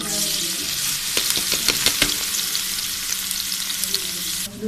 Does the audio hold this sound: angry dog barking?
no